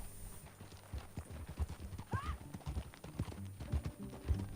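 Horse hooves clip-clop steadily during a ride in Red Dead Redemption 2, a rhythmic trotting beat under a brief whinny and some game dialogue.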